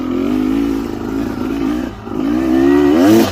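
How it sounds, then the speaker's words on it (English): A motorcycle engine revs close and loud with a wavering, stuttering tone that breaks up, dips briefly in the middle and then climbs again. "Yeah, my bike's breaking up."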